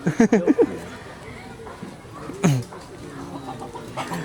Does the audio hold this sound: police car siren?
no